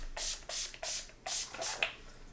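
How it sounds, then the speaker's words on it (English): Skindinavia makeup finishing spray misted in five short hissing bursts, steady and close, with brief pauses between pumps and a faint click at the end. "This is called Skindinavia. It's a makeup finishing spray."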